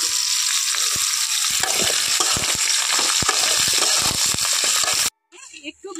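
Eggplant and other chopped vegetables sizzle in a hot pan, with a steady frying hiss and scattered stirring clatter for about five seconds before cutting abruptly to a quieter, muffled moment.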